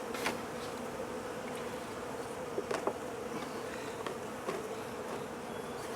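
Steady low buzzing of many bees close by in an apiary hive in winter, a continuous hum with occasional faint clicks and knocks, no voices.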